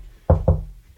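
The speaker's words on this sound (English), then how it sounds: "God, is that Adam knocking?" Two firm knocks on a door during a podcast recording, evenly spaced, close and fairly loud over a quiet room.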